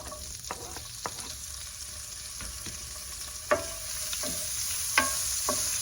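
A spoon stirring olives into chicken pasta frying in a pan, a steady sizzle with scattered scraping clinks of the spoon against the pan, close and clear, no talking.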